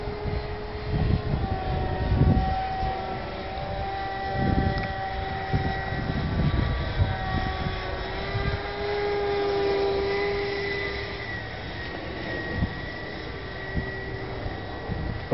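A scratchbuilt 70mm electric ducted fan model jet with thrust vectoring flies at full throttle, giving a high whining tone that rises and falls, with some wind buffeting.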